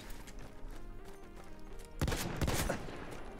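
Weapon gunfire in the shooter Battlefield 1, a quiet rumbling stretch followed by a cluster of sharp shots near the middle, with other battle noise faint in the background.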